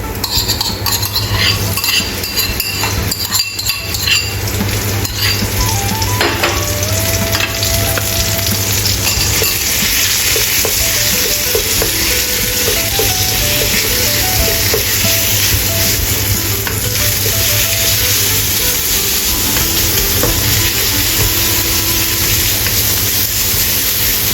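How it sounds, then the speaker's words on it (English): Minced meat stir-fries in a pan for an omelette, giving a loud, steady sizzle throughout with scraping and clinking of a utensil stirring and pressing the meat, and a low background hum. "Add minced meat and stir-fry until cooked."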